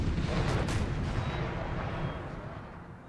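Cannons firing canister shot in the Napoleon Total War game, with a dense, rumbling wash of booming artillery blasts that stays loud, then fades slightly toward the end.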